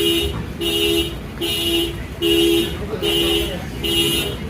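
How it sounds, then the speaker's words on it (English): A car alarm sounds aboard a moving ship in port, a loud repeating two-tone electronic whoop pulsing in regular bursts about every second, close by over a steady engine and hull drone. "Turn off your alarm when the ship is moving, because the alarm will go off."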